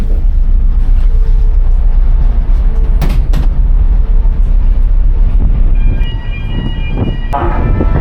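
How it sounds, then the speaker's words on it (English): A ship's emergency alarm on a ferry deck sounds as a loud, continuous horn tone over heavy engine and wind rumble, with a clearer blast emerging near the end; close and dominant. "Seven short blasts, followed by one long blast. This signals that you need to go to an assembly station."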